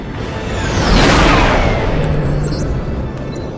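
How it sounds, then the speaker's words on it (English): A starship warps away in the Star Trek Legacy video game: a rising, swelling whoosh that peaks about a second in, then fades slowly into a sustained hum. "Warping to your coordinates."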